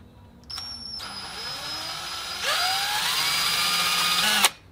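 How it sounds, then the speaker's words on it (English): Close power drill whirring, rising in pitch as it bites into a wall while mounting a Tesla Gen 3 Wall Connector, running a few seconds before stopping abruptly. "I'm just gonna drill it in place."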